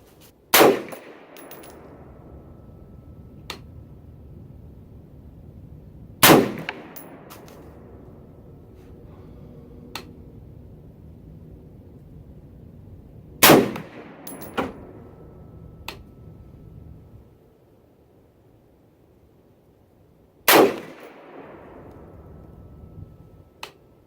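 Four sharp rifle shots from a PSA PA-65 in 6.5 Creedmoor firing Federal Premium 130 grain match ammunition, each a loud crack with a short ringing tail, spaced several seconds apart.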